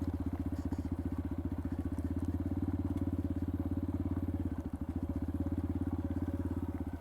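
Yamaha XT250 motorcycle engine idling nearby, a steady rapid thumping rhythm that holds even throughout with a brief dip partway through, no talking.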